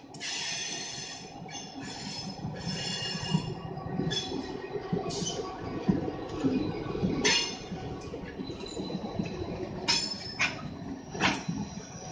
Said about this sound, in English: A GP40-2 mother leads its road slug, a GP30.